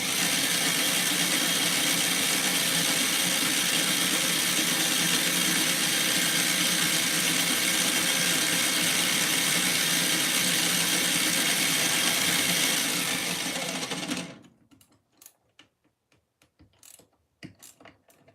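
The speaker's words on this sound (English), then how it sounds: "The drilling is the least fun part, but it's the most necessary" Brass being drilled on an old lathe in a workshop gives a loud, steady whirring machine drone with a mechanical rattle that runs for about fourteen seconds, then cuts off, leaving scattered clicks and light clatter.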